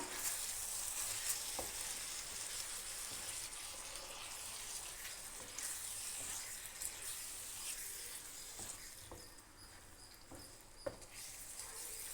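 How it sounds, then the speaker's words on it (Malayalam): Fried bitter gourd being mixed into a pickle in a pan, with a faint, constant crackling sizzle and soft, irregular stirring scrapes and clicks, distant and quiet. "എല്ലാം കൂടെ ഒന്ന് നന്നായി മിക്സ് ചെയ്ത് കൊടുക്കാം."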